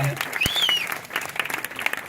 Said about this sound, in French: On applaudit Hervé s'il vous plaît, très très très fort